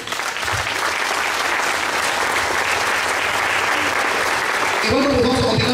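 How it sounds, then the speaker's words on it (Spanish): Strong applause from a crowd at an orchid exhibition celebration in Tenango de las Flores, a dense, steady clapping roar filling the clip from start to finish. "el aplauso fuerte para ellos."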